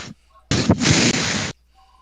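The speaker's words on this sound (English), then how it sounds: "big ass fireball explosion" A big fireball explosion in a Dungeons and Dragons game: one loud, broadband blast that hits suddenly and roars steadily for about a second before cutting off, standing alone.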